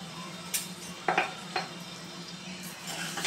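A spoon stirs a spiced ripe mango curry in a pan, giving a few light scrapes and clinks over a soft background sizzle.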